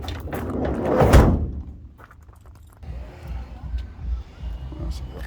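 The door of a VW T25 van is pushed shut with one heavy close-up thud, followed by quieter rustling and handling sounds at close range.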